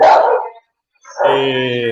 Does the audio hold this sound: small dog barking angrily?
yes